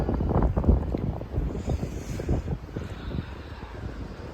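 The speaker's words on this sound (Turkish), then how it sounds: "hava güzel görünüyor ama Kütahya'da inanılmaz bir rüzgar var" Strong wind in Kütahya, Turkey, buffets the microphone in heavy, uneven gusts, rumbling loudly and close with no voices.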